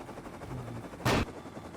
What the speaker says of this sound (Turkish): Bomba attı.